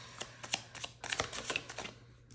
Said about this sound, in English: These cards are not easy to shuffle.